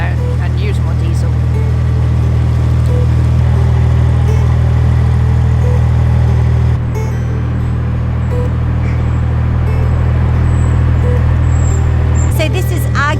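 A narrowboat's diesel engine chugs steadily at low revs while crossing an aqueduct, a loud, constant low drone that shifts slightly partway through, with people talking over it.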